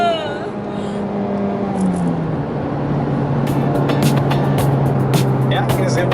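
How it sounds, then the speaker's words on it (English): A car pulls hard through third gear on a driver's road, its engine note rising steadily from a low drone into a loud, sustained growl that holds close throughout, with light talk underneath. "Quick little third gear pull."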